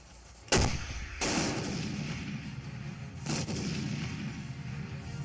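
Three heavy artillery booms, far off and spaced apart, each followed by a long rumbling echo that hangs in the air, with no voices.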